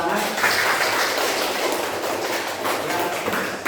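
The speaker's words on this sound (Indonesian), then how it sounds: "Tepuk tangan." A class applauds at the end of a lesson, giving a dense, steady patter of clapping that stays fairly constant and slightly distant throughout.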